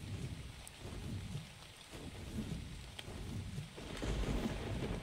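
Steady rain with low rumbling, likely distant thunder, in the video game ARK: Survival Evolved on the Ragnarok map, a continuous wash of rainfall that swells louder toward the end, with no talking.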